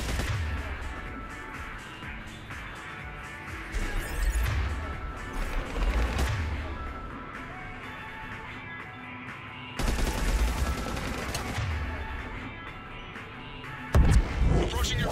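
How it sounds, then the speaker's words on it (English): Gunfire in the video game Mass Effect, heard as repeated bursts of rapid weapon shots with sharp cracks spread through a combat scene. Voices and game sounds run underneath, with louder volleys near the middle and end. "Approaching your position, Commander. Just following the gunfire."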